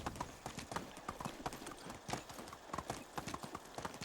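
Horse hooves clip-clopping at a steady riding pace in the medieval game Medieval Dynasty, the rhythmic clops fairly faint with a soft whinny-like tone in the background.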